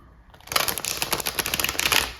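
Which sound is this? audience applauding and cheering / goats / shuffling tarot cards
shuffling tarot cards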